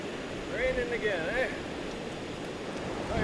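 A waterfall on a back-country kayak route gives a steady, moderately loud broadband rush throughout, with a voice speaking briefly over it early on.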